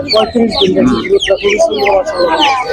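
Chickens, including Silkies, cluck and chirp throughout, close by at a bird market in Hemayetpur, Savar, mixed with people talking over them.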